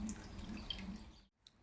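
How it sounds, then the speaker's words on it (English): Beer wort for a New Zealand Motueka Pilsner pours through a hop spider into a fermenter, a steady close splashing trickle that stops abruptly near the end, followed by a faint drip. "I've just been transferring into the fermenter through the old hop spider here,"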